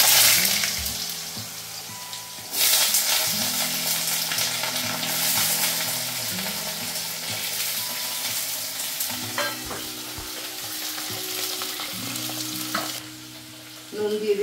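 Potatoes drop into hot oil with five-spice seasoning, setting off a loud, close, continuous sizzle and hiss that surges as they go in and stays bubbling throughout, with a low hum underneath.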